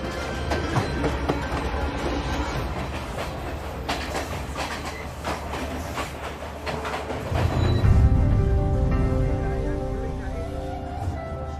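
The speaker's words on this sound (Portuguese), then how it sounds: "Embarcamos no trem para viajar até o coração do Sri Lanka." A crowded passenger train travelling in Sri Lanka rumbles and clatters continuously from inside the carriage, with rhythmic wheel clicks and a swell of louder rolling noise midway.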